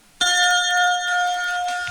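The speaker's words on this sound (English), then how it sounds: "Don't forget to turn the page every time you hear the chime" A single bright chime from a G.I. Joe read-along record signals a page turn, striking sharply after a short silence and ringing on with a clear, sustained metallic tone.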